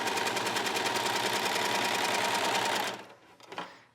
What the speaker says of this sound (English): just by running it through the serger one time